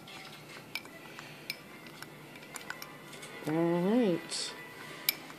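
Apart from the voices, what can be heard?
stirring a mix in a container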